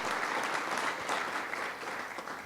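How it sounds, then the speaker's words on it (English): Steady applause from an audience at a Kennesaw State University press conference, many hands clapping in a dense, even wash for the university president, with no voice over it. "Give him a round of applause for our leader, President Papp."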